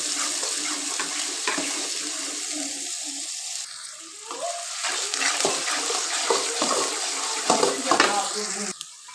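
Chopped onions fry in hot oil for a bhindi masala curry, giving a continuous watery sizzle with a voice talking faintly over it.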